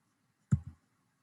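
A computer mouse clicks once in CAD software, a quick close double tick with the second part softer, on an otherwise quiet background.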